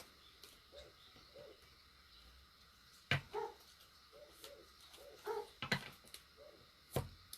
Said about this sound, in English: Forgive the dogs.